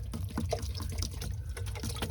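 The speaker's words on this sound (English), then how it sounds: "so I'll fill up that water dish" Water trickles and splashes steadily into a tortoise's water dish for about two seconds. The pouring is close and quiet, with soft watery gurgles and no speech.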